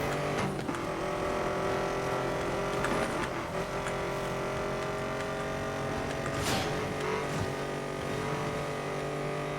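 A car races at speed in Need for Speed: Most Wanted (2012), its engine droning loud and steady throughout, with road roar and a couple of sharper whooshing surges as it tears along.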